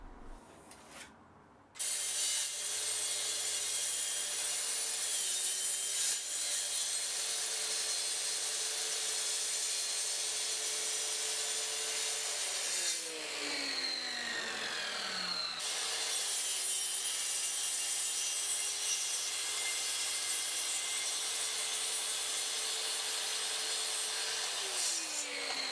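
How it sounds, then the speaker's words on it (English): Track saw cutting sheet goods along drawn lines, the motor spinning up sharply then holding a loud steady whine as the blade rips through, with a brief pitch drop and dip midway before resuming to the end. "put the track right against your lines, and then cut out any kind of strange shapes out of sheet goods you need"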